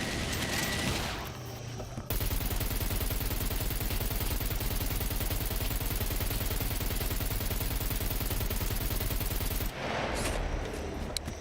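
Sustained rapid automatic gunfire aimed at a mech robot in SCUM, a loud unbroken rattle of shots lasting several seconds, framed by quieter moments before and after.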